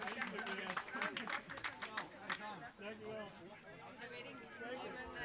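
Audience applause for the winner of the Badhoorn general classification at a multi-day cycling event in Zevenhuizen, steady and crowded, with loud talk over it throughout.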